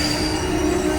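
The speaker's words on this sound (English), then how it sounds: "Here's the train." An airport train in Sweden gives a loud, continuous high-pitched wheel squeal over a steady rumble, heard close up with no talk.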